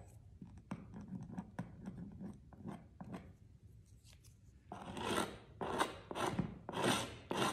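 Wet paper pulp is scraped out during a pulp painting, heard as soft, close rasping and scratching strokes that start quiet and scattered, then grow louder and more rhythmic in repeated bursts.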